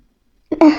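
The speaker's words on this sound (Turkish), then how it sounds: "Hapşıracağım." A single sharp sneeze bursts out after a moment of silence, close and loud.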